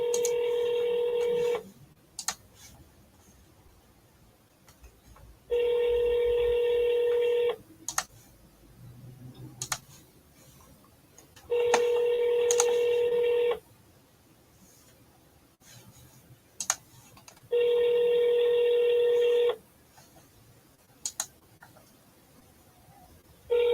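Telephone dialing in a broker outreach office, four bursts of keypad tones spaced about six seconds apart, loud and steady, with faint clicks and tapping between them and no talking.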